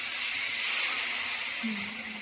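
Water poured into a pan of fish frying in spiced oil sends up a loud, steady hiss that fades a little, with a faint whistling tone near the end.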